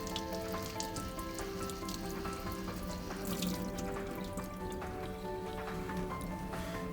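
Miele built-in coffee machine dispenser parts being washed by hand under a running tap, with a steady stream of water splashing and dripping into a sink, close and continuous throughout.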